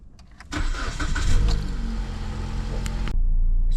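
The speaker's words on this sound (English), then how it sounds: "Let's go ahead and crank up the vehicle" A 2016 Jeep Compass Sport 2WD with a 2.0 engine cranks briefly and catches, then settles into a loud, steady running hum close by, with no voices.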